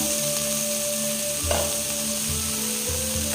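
Vegetables for chow fry in a lidded pan over low gas, producing a constant close hiss with one brief clink partway through.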